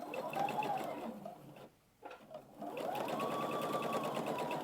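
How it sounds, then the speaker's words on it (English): A sewing machine runs steadily, stitching along the seam of a fabric Easter egg table runner. It pauses briefly near the middle, then resumes its fast, even whirring. "I'm starting where the center panel is, and then I just start stitching along."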